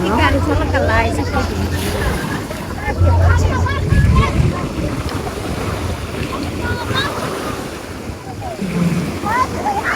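Choppy sea waves wash and churn at a campsite shore amid gusty wind buffeting the microphone, with people talking nearby over the surf.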